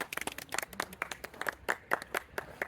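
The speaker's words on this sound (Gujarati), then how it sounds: "તાળીઓ પાડો" Small group clapping in a casual Gujarati household setting, irregular bursts of hand claps of moderate loudness, some sharper and closer, with no talking.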